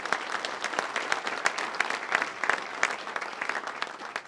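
At a county address, an audience applauds graduating seniors; individual claps stand out as sharp, distinct hits within a moderate, steady round of clapping.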